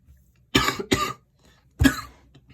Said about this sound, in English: Sorry, I have some weird cough.